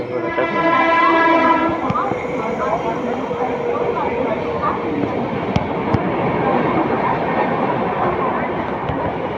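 A crowded commuter train near Thane rattles along with a steady rumble, a long horn blast near the start and faint sharp clicks, crowd voices murmuring underneath.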